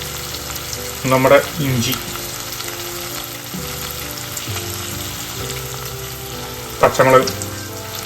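Onion, garlic, ginger, green chili and curry leaves sizzle in hot oil for Kerala okra mappas, with two louder bursts of stirring and clattering over a steady frying hiss, while a voice speaks throughout.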